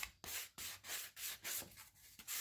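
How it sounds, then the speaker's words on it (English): A sander works over the edges of painted letters on a Dollar Tree wooden spring sign, making close, rhythmic rubbing strokes in short bursts of gritty scraping with brief pauses between passes. "I take my sander. I first go around the edges"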